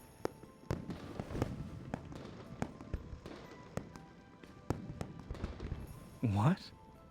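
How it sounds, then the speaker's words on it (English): Fireworks pop and crackle through a Chinese New Year event scene in the game Love and Deepspace, scattered sharp bursts over a steady rumble, with a brief rising whistle near the end. "The fireworks are too loud."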